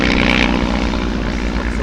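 A Bücker Bü 131 Jungmann biplane, Spanish licence-built in 1957, drones loudly and steadily with a propeller engine during an aerobatic display at an air and car show.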